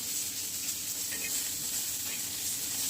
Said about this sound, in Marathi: चांगल्या मिरच्या भाजून घ्यायच्या मस्त